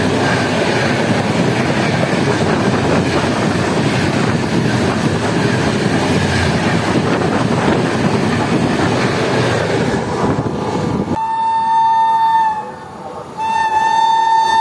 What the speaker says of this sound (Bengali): আমাদের ট্রেনকে ওভারটেক করলো হাওড়া থেকে কামাখ্যাগামী বন্দে ভারত স্লিপার এক্সপ্রেস।